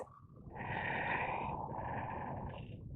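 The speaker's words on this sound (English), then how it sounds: "seal your lips, cultivating Ujjayi breath, which is you just inhale and exhale through the nose" Ujjayi yoga breathing through the nose makes a long, hoarse, rushing airflow that swells and holds for a few seconds, close and steady, with no talking.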